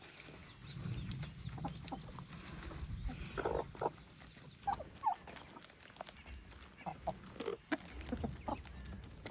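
Chickens cluck and squawk in short scattered bursts over low background rumble, close by and moderately loud, with no talking.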